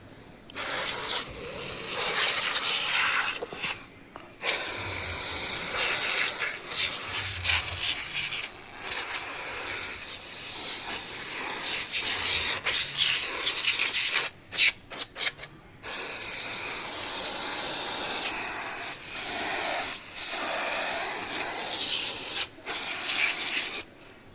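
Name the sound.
spraying Moto Max cleaner on a motorcycle helmet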